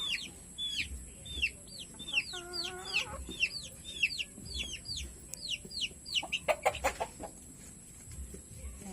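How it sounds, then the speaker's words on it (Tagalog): Chickens in a backyard coop cluck and chatter in quick rising calls, close and fairly loud, with scattered scratching and knocks beneath. "Magpapakain muna ako ng mga manok"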